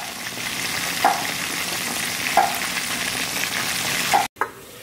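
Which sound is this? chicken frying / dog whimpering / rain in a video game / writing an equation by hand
chicken frying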